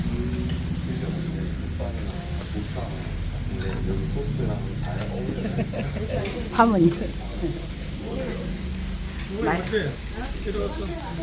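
Pork belly sizzles steadily on a restaurant grill in Busan, a continuous crackling fry running beneath close conversation and laughter.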